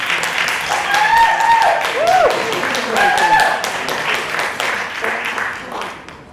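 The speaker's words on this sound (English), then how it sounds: "A big applause again" Audience applause at a Toastmasters District 10 event, a steady wash of clapping with cheering voices rising over it, fading toward the end.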